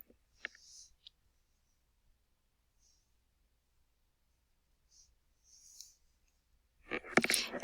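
Computer mouse clicks, a few sharp isolated taps spaced across a quiet stretch, faint and close, followed by a brief louder rustle at the end.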